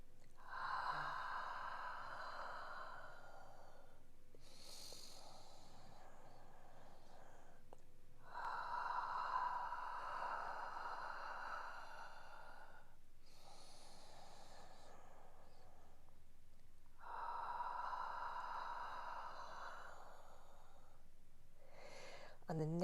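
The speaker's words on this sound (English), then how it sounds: "3 long, deep inhales and exhales" Long, deep breathing during a yoga session comes as three slow breath cycles, each a soft, airy inhale and exhale of several seconds separated by brief pauses, close and fairly faint.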